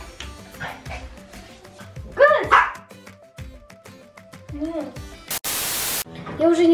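A dog barks and whines in a home, short yelps mixed with a burst of static hiss, while girls talk over it throughout.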